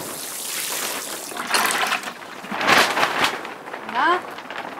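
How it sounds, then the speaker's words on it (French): Water is poured onto freshly sown dwarf green bean seeds in a vegetable garden, giving close splashing and trickling bursts that swell and fade several times, with a short rising whistle-like squeak near the end. "vous arrosez bien, même en deux fois"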